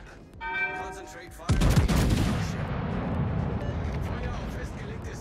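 Heavy naval gunfire in World of Warships from the battleship Thunderer: a loud broadband blast near the middle, then a sustained rumbling roar that fades slowly, with game sounds and brief tones before it.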